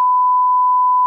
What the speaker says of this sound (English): You definitely got to beep this name